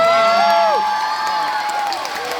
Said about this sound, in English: Give yourselves a round of applause for being incredible.